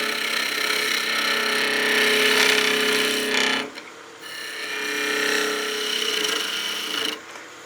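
A skew chisel cuts wood on a lathe while a gnome Christmas ornament is turned, giving a steady bright scraping whir in two long passes with a short pause between.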